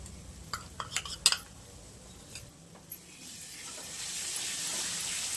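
Onion-tomato masala mixed with curd stirred in a pan over the gas, with several sharp spoon clinks against metal early on, then a rising soft hiss of cooking, close with no voices.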